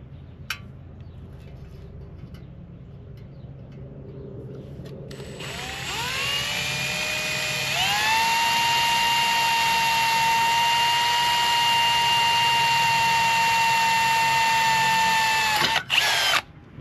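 A power drill spins up and whines at a steady high pitch for several seconds, drilling holes during a car air-conditioning install, then winds down with a brief clatter.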